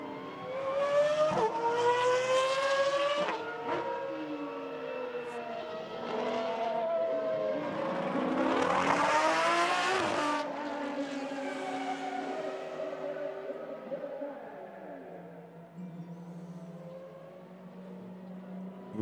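A Lamborghini SCV12 race car circuits a track, its loud engine note rising and falling through gear changes, swelling to a close peak as it passes and then fading into distant whine with a faint later roar.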